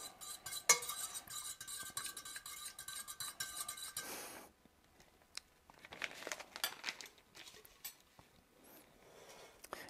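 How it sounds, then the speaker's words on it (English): A spoon stirs priming sugar into boiled water in a pot for bottling homebrewed beer, with close scraping and clinking strokes, louder at first and then softer and intermittent. "so I'm going to add the priming sugar in and mix that up"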